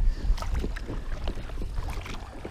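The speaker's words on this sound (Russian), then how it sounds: "Все, я уже на веслах тут нагребаю." Oars work a rowboat on a lake, with a steady series of soft, close splashes and strokes under breezy wind noise and a low rumble.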